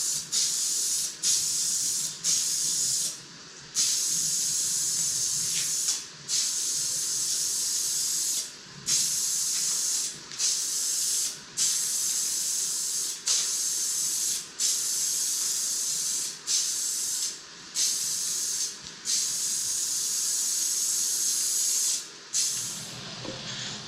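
A spray paint can hisses in repeated bursts of a second or two each, with short pauses between, while a first coat goes onto a truck bed extender in a cold workshop, loud and close.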